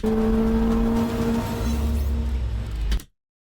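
Corvette ZR1X launching hard from 0 to 60 mph, a loud rising engine roar with strong whining harmonics and deep rumble that cuts off abruptly, no talk.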